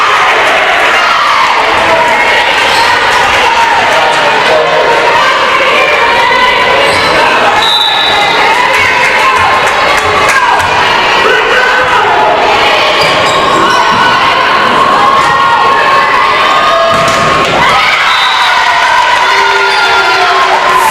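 A large crowd cheers and shouts loudly and steadily at a college volleyball match in a gym, with bursts of noise, squeaks and ball sounds throughout and an announcer talking over the din.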